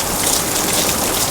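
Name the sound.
hail and rain falling on plastic greenhouse film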